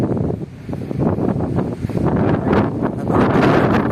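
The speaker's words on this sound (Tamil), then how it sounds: "காற்று இன்னும் குறையல மழை இன்னும் அடிச்சுட்டு தான் இருக்குது" Gusty wind buffets the microphone in loud, surging bursts, with a rushing hiss of rain mixed in during heavy rain at Avalanche; no one speaks.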